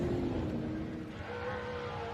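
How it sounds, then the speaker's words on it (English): Small block Chevrolet 431 race car engine at a Don River Dash event, a steady broad rumble heard from a distance over crowd and outdoor ambience, holding fairly constant for the whole stretch. "Have a listen to that small block Chev. Sounds a treat, doesn't it? The 431."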